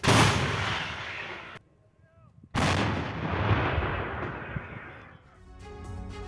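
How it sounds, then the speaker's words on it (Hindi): Artillery shelling of defensive positions in the southern sector of the Russia-Ukraine front: loud, rolling blasts of gunfire fill the opening seconds, then a short near-silent gap, then another sustained barrage with echoing rumble that slowly fades. "यूक्रेनी ठिकानों पर लगातार बमबारी की जा रही है।"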